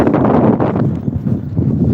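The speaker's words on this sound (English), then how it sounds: "Very windy point, I am sorry about that." Steady wind buffeting the microphone, a loud, continuous rumbling roar with gusty swells throughout.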